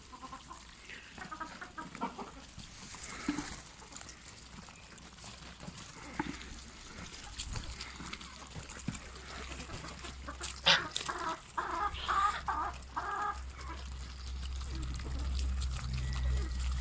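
Chickens feeding in a farmyard cluck quietly and intermittently, a low, distant-sounding backdrop with occasional louder calls and a voice speaking now and then.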